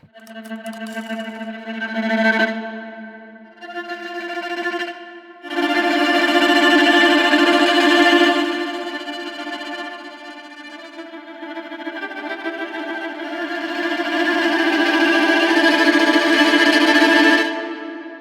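A bowed viola plays sustained, trembling tremolo notes through heavy distortion and echo, harsh and edgy, swelling and fading in long waves.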